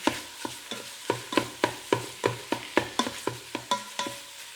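Breakfast sausage sizzles in a Ninja Foodi while a meat chopper scrapes and breaks it up, giving about fifteen rhythmic stirring strokes close by over a continuous frying hiss.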